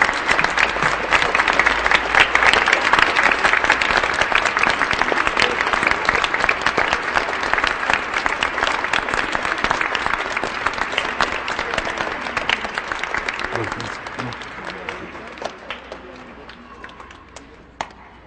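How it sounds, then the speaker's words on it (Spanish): A congregation at a Saturday Mass applauds in church to give a warm welcome, with dense, reverberant clapping that stays strong for a long stretch and then gradually thins and fades out. "vamos a darles un recibimiento con un fraterno aplauso"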